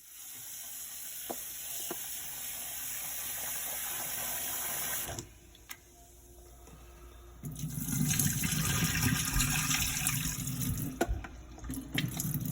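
Water runs from a tap, briefly stops, then gushes louder as saltfish is rinsed under the stream, with occasional splashes and clinks.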